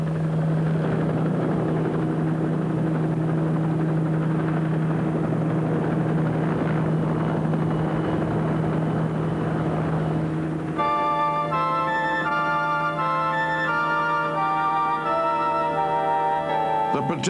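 A Soviet Mil Mi-4 Hound helicopter drones steadily with a low, continuous engine and rotor hum, loud and constant, while music with tonal notes enters partway through and plays over it.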